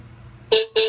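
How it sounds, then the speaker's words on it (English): Two short, loud horn blasts sound on a custom CT100 motorcycle, close by, with a brief gap between the bright buzzy honks and near silence before them. "Let's see if I can make it honk for you guys."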